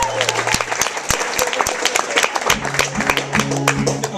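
A concert audience applauds a singer's introduction with dense, lively clapping throughout, and scattered voices and cheers rise within the crowd noise.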